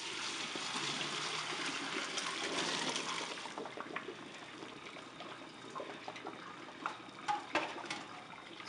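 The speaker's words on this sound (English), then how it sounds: "I've kept a colander here, so I'm just going to drain all the water." Water from a big pot of cooked pasta gushes into a colander, a loud pour easing after about three seconds into quieter trickles and scattered drips and clinks.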